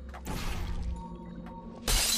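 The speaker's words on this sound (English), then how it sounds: "Breaks the glass." Glass shatters in Portal 2, a sudden bright crash at the end after a stretch of low humming game ambience.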